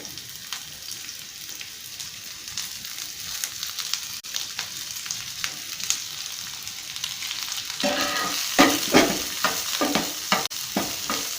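Onion frying in oil for a vegetable stuffing for egg rolls gives a steady sizzle that grows busier and louder toward the end, with stirring scrapes and clacks of a utensil in the pan.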